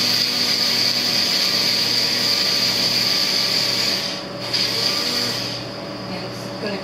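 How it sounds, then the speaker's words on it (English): An electric coffee-style grinder grinds spices finely for vegan chili with a loud, steady high whine, dipping briefly partway through before running on, close by. "it's kind of like a coffee grinder"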